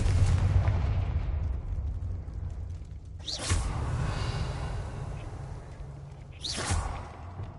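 Two booming blasts from the Confringo explosion spell in Hogwarts Legacy, each with a whooshing burst, over a steady low rumble, spaced about three seconds apart, with no talking.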